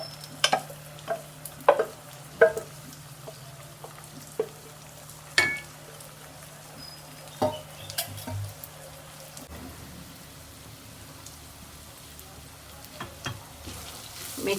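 Cooked rice being stirred into puliyogare mix in a pan, with scattered clinks and scrapes of the spoon against the pan, then a quieter stretch of soft mixing.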